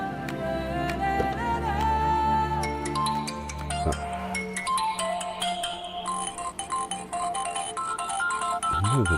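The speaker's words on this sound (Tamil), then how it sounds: "யார் போன் அது?" A mobile phone ringtone plays loudly nearby as a bright melodic tune with repeating notes, continuing for several seconds amid a dramatic scene.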